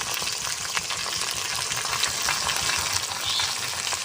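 Chopped onion, green tomato and turmeric fry together for a mutton curry, a dense continuous sizzle with scattered crackles and stirring scrapes close by.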